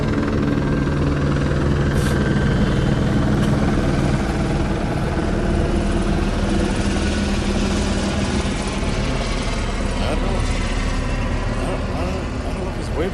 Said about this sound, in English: we got helicopters flying around us.